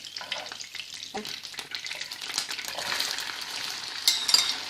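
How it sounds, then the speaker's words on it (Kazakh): Onions fry in about 90 grams of melted butter in a pan, a soft crackling sizzle with occasional stirring scrapes and utensil clinks, growing slightly louder toward the end. "Осының барлығы еріп болғаннан кейін біз жуаны қуырамыз."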